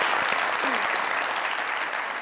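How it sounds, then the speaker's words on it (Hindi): Studio audience on a comedy talk show clapping loudly and densely, a sustained burst of many hands throughout the short stretch. "तालियां सर के लिए।"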